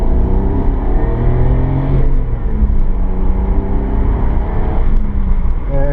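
A 1990 Nissan Skyline R32 GTS-4 engine pulls hard on a test drive, a loud, close, continuous drone whose pitch climbs in repeated sweeps as the car accelerates through the gears.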